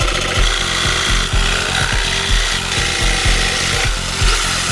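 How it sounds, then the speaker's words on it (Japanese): A jigsaw and drill cut openings in plywood panels, a loud continuous buzzing saw with rapid rhythmic strokes, close up and alone. "ベニヤはドリルとジグソーで開口部を加工します"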